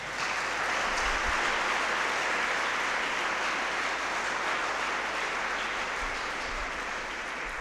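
A Sunday Mass congregation applauds missionaries, a dense, sustained burst of many hands clapping that continues steadily for several seconds without talk.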